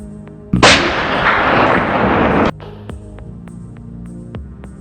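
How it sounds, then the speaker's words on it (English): A single loud, close hunting rifle shot fired at a deer, followed by a roaring, sustained blast that cuts off abruptly, leaving a quiet background with faint ticking. "I adjusted my aim toward its weak spot, pulled the trigger, direct hit."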